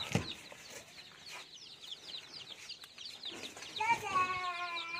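Young day-old chicks in a poultry coop chirp in busy, high-pitched peeping calls throughout, with a louder cluster of clear chirps near the end and a few soft clucks in the background.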